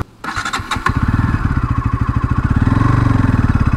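An NS 200 motorcycle with a raw exhaust fires up with a few sharp bursts, then settles into a loud, close, rapidly pulsing engine note that climbs steadily as the bike is ridden hard.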